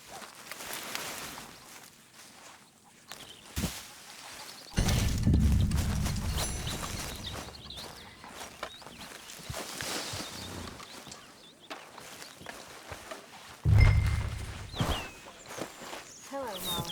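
Horses' hooves clopping at a walk in a camp in the video game Red Dead Redemption 2, intermittent thuds near and far with low rumbling bursts, mixed with other ambient game sounds.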